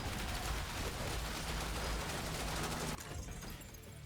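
Sustained assault rifle fire in a zombie survivors shooter, a loud continuous burst of rapid shots that cuts off abruptly near the end, leaving a quieter tail.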